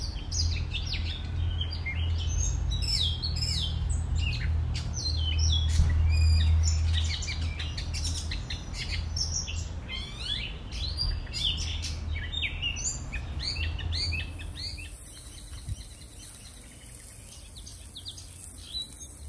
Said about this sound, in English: The birds is singing.